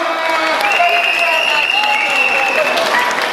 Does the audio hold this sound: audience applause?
yes